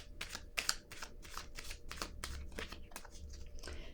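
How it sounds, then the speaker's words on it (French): Tarot cards handled and set down on a surface, a close run of quick papery snaps and soft slaps repeating steadily throughout, with no one speaking. "je vais déposer une carte ici"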